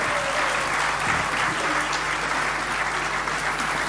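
Audience applause at a wildlife photography award ceremony, dense and steady clapping from a large crowd that holds at full strength without a break.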